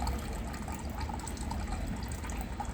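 Water gurgles and flows steadily through a clogged drain as a chemical drain opener works, a continuous close wet churning with faint drips and no talk.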